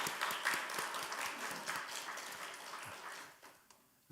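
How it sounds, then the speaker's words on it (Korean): A church congregation applauds during an Easter Sunday service, a dense, steady patter of many hands filling the room before thinning out near the end. "격려의 박수 한번 부탁드리겠습니다."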